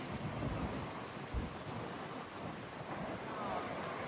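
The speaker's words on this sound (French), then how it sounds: "c'est vraiment venteux. C'est pas froid, c'est très venteux." Strong wind in Christchurch, New Zealand buffets the microphone in a steady roar, with gusts swelling and fading and a rushing, surf-like wash underneath.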